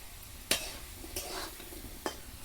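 Potatoes frying in hot oil until reddish-brown for a village-style chana masala: a steady soft sizzle broken by three sharp scraping strokes of a spatula against the pan, close and fairly quiet.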